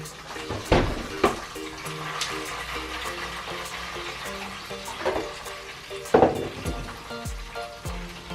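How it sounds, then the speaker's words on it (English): Bones sizzle and crackle while roasting in a hot pan for bone broth, steady frying hiss with occasional louder clanks and bumps of cookware nearby. "Can you hear that sizzle?"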